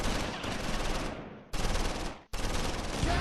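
Game gunfire from Close Combat IV, a WWII tactical battle near Houffalize, comes as dense bursts of rapid shots separated by two abrupt breaks, loud and close with no talking.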